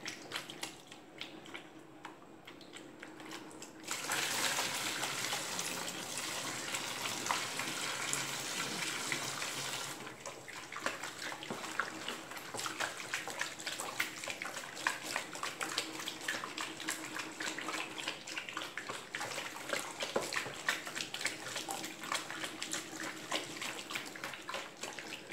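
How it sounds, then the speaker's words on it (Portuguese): Hot water poured slowly into a container for homemade liquid soap, a steady gushing stream that starts abruptly and runs continuously at close range, its tone shifting partway through as the vessel fills, with no talk. "Vou colocar 4 litros de água quente, mas vou colocar bem devagar para ela poder dissolver"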